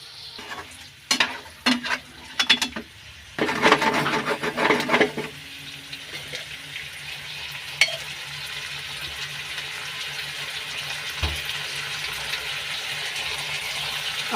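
Fried chicken leg pieces being stirred into spicy Schezwan sauce in a pan: a few clattering scrapes and stirs up front, then a steady, close sizzle that carries on alone.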